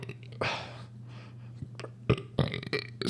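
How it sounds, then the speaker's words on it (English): A single burp lands close on the microphone during a pause to drink, with loud breathy bursts and mouth noises following it. "Shouldn't be burping on the mic."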